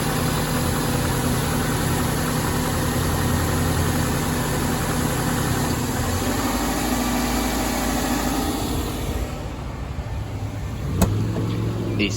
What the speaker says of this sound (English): AC just kicked in. That's what that sound was.